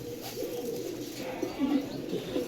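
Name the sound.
pigeons cooing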